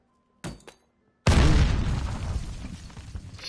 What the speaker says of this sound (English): Scary grenade.